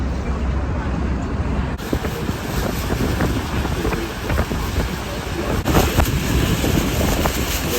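Strong wind buffets the microphone in gusty bursts over a constant rushing roar, with faint water sounds beneath.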